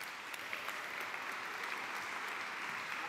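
Steady clapping from a conference audience welcoming a speaker to the stage, dense and even throughout, heard at a modest level from within the room.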